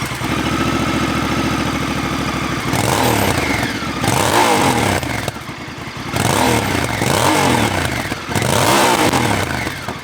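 A parallel-twin adventure motorcycle engine, a Husqvarna Norden 901 or Honda Africa Twin 1100, idles with a chugging beat, then revs and accelerates in several loud, rising pulls close by.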